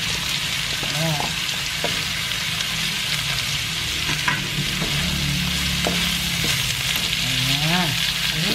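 Carrots frying in a pot of corn soup with shrimp and misua sizzle steadily while a utensil stirs, producing a constant loud hiss with occasional scraping strokes and faint background voices.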